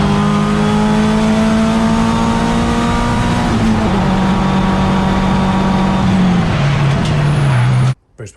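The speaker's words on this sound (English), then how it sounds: "Boost pipe came off, lost all power." A time attack race car's engine drones loudly at Donington, its steady high pitch sagging and dropping as a boost pipe comes off and power fades, then the sound cuts out abruptly near the end.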